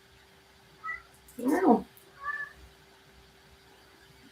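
A domestic cat meows a few times indoors, short separate calls at moderate volume with one louder, longer meow in the middle, and a faint steady hum underneath.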